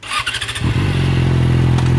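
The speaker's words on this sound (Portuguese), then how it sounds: "Agora vai, dá o seu rolê de XJ6 na praça." A Yamaha XJ6 motorcycle ridden off around a town square, with a few quick revving blips before the engine settles into a loud, steady close-up drone as it pulls away.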